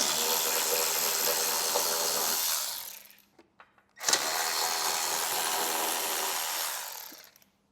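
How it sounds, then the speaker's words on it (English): A 13 mm bolt is backed out of a motorcycle gas tank mount with a power tool, giving two loud, sustained whirring bursts separated by a brief pause with small clicks, close up and without talk. "Take that bolt out."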